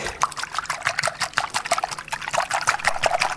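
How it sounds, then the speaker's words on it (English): Eggs are whisked briskly in a bowl with a whisk, giving a close, rapid run of rhythmic clicks and wet sloshing that lasts a few seconds. "So give your eggs a wee whisk."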